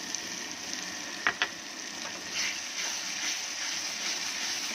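Fish curry masala with spoonfuls of yogurt sizzles and fries in a pan, a soft, close hiss with a couple of sharp clinks from a spoon.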